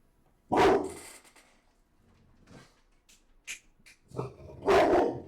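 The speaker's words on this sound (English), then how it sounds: "stop barking." A dog barks in a few loud, separate bursts, with quieter knocks and rustles between them.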